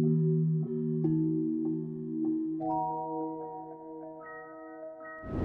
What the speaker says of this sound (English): It's kind of like a halftime effect